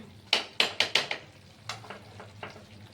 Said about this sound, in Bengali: এবার একটু নাড়িয়ে নিই নাড়িয়ে নিলেই আমাদের আলুর দম রেডি হয়ে যাবে